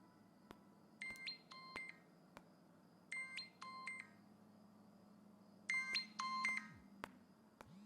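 A mobile phone rings indoors in a home during a Pakistani television drama, several short bursts of electronic tones repeating in a pattern over a low background hum.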